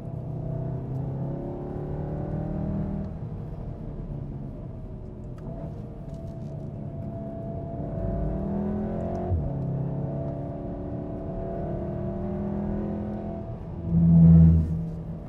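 Volkswagen Golf R 2015 driving on a race track, heard from inside the car as a steady engine drone with rising and falling pitch through gear changes and a low rumble underneath.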